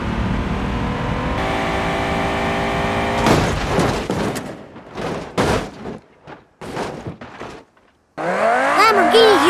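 A Bugatti Chiron sports car in the BeamNG.drive game racing at full speed toward a trailer: a loud steady engine drone, then chaotic bursts of crashing and scraping, and a screeching squeal at the end.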